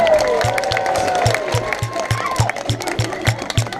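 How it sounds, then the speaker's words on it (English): An outdoor audience at a safari park cheers and claps for Bounty the sea lion, a steady wash of crowd noise running beneath a voice, with a rhythmic low thumping pulse underneath. "everyone give him one last cheer to say well done"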